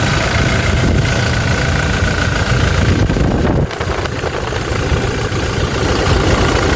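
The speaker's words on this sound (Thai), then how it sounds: "ฟังเสียงเครื่อง" A Toyota Hilux Revo with a 2.4 engine idles loudly and close by, a steady, dense rumble that holds throughout apart from a brief dip in the middle.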